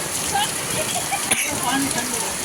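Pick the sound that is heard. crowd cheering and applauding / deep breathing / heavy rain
heavy rain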